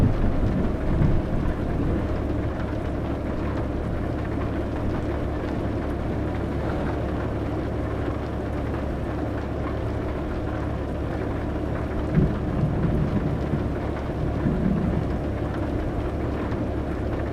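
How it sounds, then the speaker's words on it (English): Thunderstorm and heavy rain in Euro Truck Simulator 2 on a UK road: a steady hiss of rain runs throughout under a low, continuous rumble of thunder, with a few soft, louder swells and no talking. "Thunderstorm, nice."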